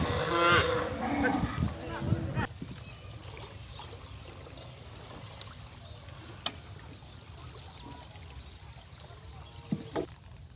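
Cattle lowing during the first two seconds as villagers move their livestock away from rising floodwater in a flooded village, loud and close, then giving way to a quieter outdoor background with occasional faint knocks.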